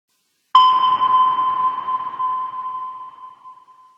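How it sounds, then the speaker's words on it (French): A single submarine sonar ping rings out sharply after a brief silence, a clean high-pitched tone that decays slowly with a faint echoing tail, heard alone. "c'est bel et bien le bruit d'un sonar"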